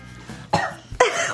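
A child coughs close by, with a few rough coughs and throat-clearing bursts over about a second and a half, growing louder toward the end.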